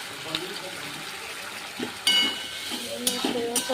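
Tomato sauce and soy sauce go into a sizzling gravy in a pan, giving a steady frying hiss with stirring scrapes and a couple of louder sizzle bursts as the liquid lands.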